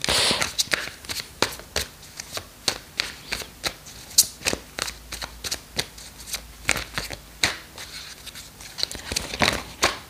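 Tarot cards shuffled by hand in a steady run of crisp riffling slaps and flutters, close and fairly loud, with no talking.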